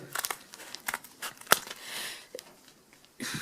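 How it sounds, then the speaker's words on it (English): Scissors snipping craft material into strips for small-pet toys, a quick series of crisp crinkly cuts and rustles close by, with one sharp snap in the middle and quieter handling between. "Take your scissors. Be careful when you're using scissors."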